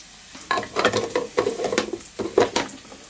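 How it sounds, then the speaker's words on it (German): Salad being tossed and mixed in a bowl after sugar and oil are added, a run of soft stirring and clattering strokes at close range with no talk. "Und nur noch einmal gut durchmischen."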